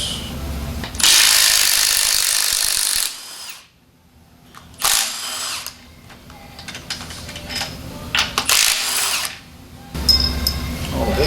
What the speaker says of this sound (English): Let's go ahead and pull the head bolts out.